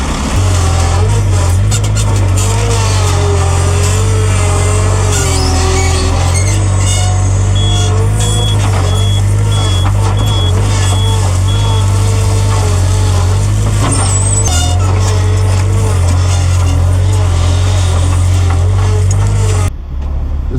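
A heavy truck engine runs loud and steady at a concrete driveway pour, with a low constant rumble, brief air-brake hiss and intermittent high beeps in the middle.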